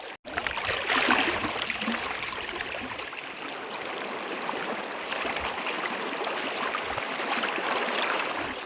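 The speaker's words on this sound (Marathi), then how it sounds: "इथे आल्यावर ही नदी आपल्याला पार करून जावेच लागते" A shallow river crossed on foot gives a continuous rushing, burbling flow of water, close and fairly loud throughout, with no voices.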